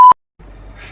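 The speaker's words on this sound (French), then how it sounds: "Je vais devoir biper ce qu'il a dit" A loud, steady electronic censor bleep tone sounds twice in quick succession, masking a spoken word, followed by a pause and then faint, muffled room background.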